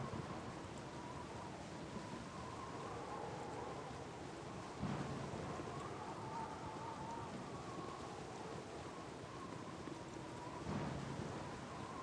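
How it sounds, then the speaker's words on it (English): Steady rain patters throughout in the video game Baldur's Gate: Enhanced Edition, with two dull rumbles of thunder rolling in, one near the middle and another toward the end. "it's raining again"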